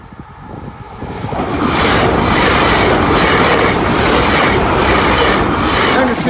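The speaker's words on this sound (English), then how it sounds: "is another petroleum train. Here he is." A petroleum freight train rolls past the Doddington Road level crossing. The roar swells from a distance into a loud, steady rumble of wagons with rhythmic wheel clatter and faint squeal, close by and continuous.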